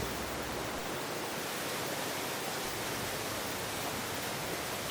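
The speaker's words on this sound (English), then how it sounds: "And there's actually one more waterfall after this we're going to hike down to." A waterfall on the Montecito Peak hike near Santa Barbara roars in a steady, dense rush of falling water, close and loud, with no voices.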